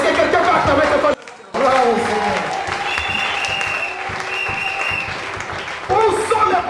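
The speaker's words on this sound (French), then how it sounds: "Est-ce que quelqu'un peut acclamer ce point?" Church congregation applauding during a pastor's sermon, a dense sustained clapping that drops out briefly near the start and then swells again, with crowd chatter mixed in.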